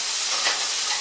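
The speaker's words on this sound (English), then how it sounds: "Kind of make a popping noise when you toss them in." Brussels sprouts tossed into a hot pan on medium-high heat give a steady, close sizzling hiss with one brief louder crackle midway; no one speaks.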